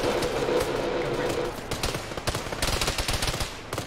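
Gunfire in an Arma game session with a ShackTac group, a shotgun among the weapons: a steady run of sharp, close shots in quick succession, loud throughout.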